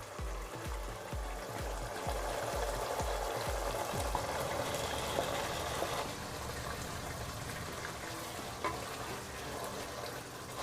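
Masala-coated paneer dropped into separated oil for a dhaba-style paneer dish, with a few heavy thumps, then steady sizzling and stirring scrapes in a pan, close and moderately loud.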